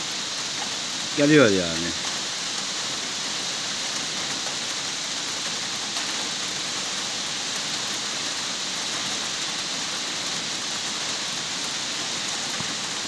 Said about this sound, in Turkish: Yağmurun sesini de çatından duyuyorsunuz